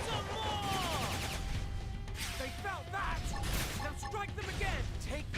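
Gunfire rattles in a futuristic battle in Xenoblade Chronicles X, with rapid repeated shots and sweeping laser-like chirps mixed with crashing impacts. Voices speak over the steady combat noise.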